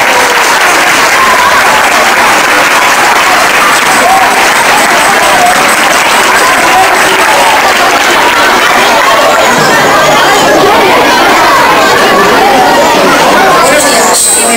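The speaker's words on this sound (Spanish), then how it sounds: "Un aplauso para ellos." Loud, sustained applause from the audience at a primary school Christmas concert in Santander, a dense crowd clapping steadily throughout with some chatter mixed in.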